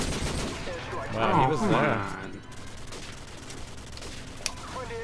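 Call of Duty 4 gunfire with a Desert Eagle pistol in the mix, scattered shots fairly close under someone speaking, one sharp crack standing out near the end.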